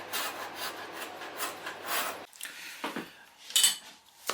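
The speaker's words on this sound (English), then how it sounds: "scraping it and then sanding it" Wood on an old Smiths Empire 8-day wall clock is scraped and sanded by hand, a steady close rasping rub that breaks off into a few shorter scratchy strokes and small knocks.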